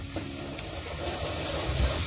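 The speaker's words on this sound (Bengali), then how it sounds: "ডালটা দেখো, প্রথমে ফোড়ন দেওয়া হলো, তারপরে পেঁয়াজ, টমেটো" Dal simmers and sizzles in a pot at an outdoor village picnic, tempered spices with onion and tomato crackling in hot oil, a steady close frying hiss with a faint stir and low voices behind.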